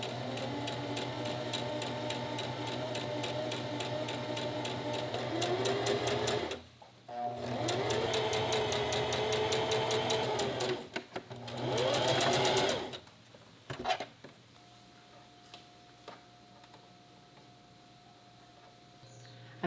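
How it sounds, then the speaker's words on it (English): Sewing machine stitching a maternity dress, running in long steady bursts with brief pauses and stops between seams, a close and continuous mechanical whir. "Now I'm just going to sew it down the side."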